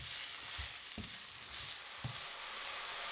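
Chili and carrots sautéing in a pan over very low heat, giving a soft, steady sizzle with a few gentle stirring knocks scattered through, faint and close with no voices.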